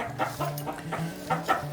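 Hens of New Hampshire, Carijó and Rhode Island breeds cluck in a short run of repeated throaty calls, close and moderately loud with no talking.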